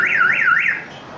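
A jeepney's car alarm siren sweeps up and down three times, loud and nearby, before stopping abruptly.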